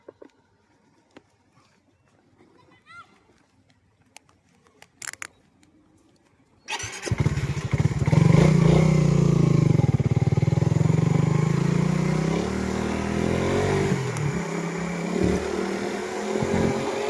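Quiet with scattered small knocks and clicks, then a motorcycle engine starts abruptly and runs loud and close, a steady rumbling drone that shifts slightly in pitch as it rides on.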